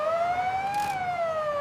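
An ambulance siren from a Lego City action story sounds a single loud, sustained wail that rises slightly and then falls over a brief moment.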